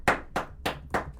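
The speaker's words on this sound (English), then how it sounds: "Are we clapping?" A small group of people clapping at a school event, five quick, fairly close bursts of applause in an even rhythm.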